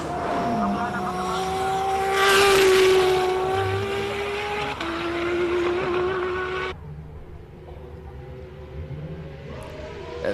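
A race car at the Simola hillclimb drives past with a loud, high-revving engine, rising through the gears, then quickly fading as it moves away; commentators talk over the sound.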